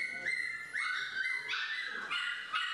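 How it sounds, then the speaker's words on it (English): A beagle barks and yips repeatedly in high, bright bursts, close and loud, with whimpering tones between the barks. "That's Gracie Beagle."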